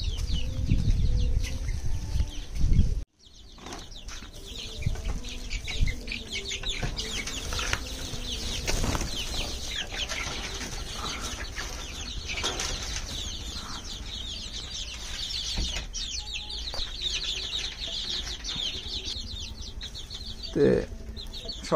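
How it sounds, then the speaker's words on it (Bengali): Domestic desi chickens clucking and calling nearby, with repeated clucks over a busy farmyard background and occasional speech. "এখন নিয়ে গিয়ে আপনার মুরগি দেব।"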